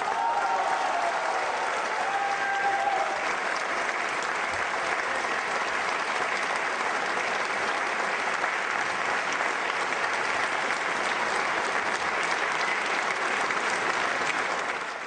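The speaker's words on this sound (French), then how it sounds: "les militants applaudissent pendant le discours, mais à la fin il a même droit à une standing ovation" A packed hall at a political party gathering breaks into sustained applause for a standing ovation, dense, even clapping from a large crowd continuing without a break throughout.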